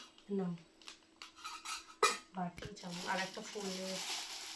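Spoons and bowls clatter and clink in close, sharp bursts while people talk nearby at a home birthday gathering.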